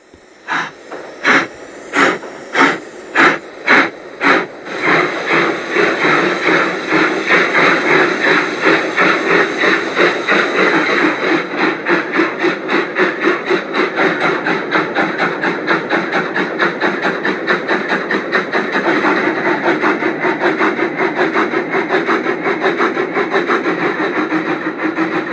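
A steam locomotive pulls away with its train, running tender first: slow, loud exhaust chuffs at first, quickening into a rapid, continuous rhythmic beat with a steady mechanical roar beneath.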